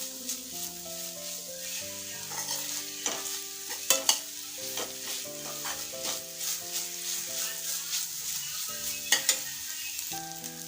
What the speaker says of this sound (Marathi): हे खोबरं या तुपामध्ये छानपैकी परतून घ्यायचं आहे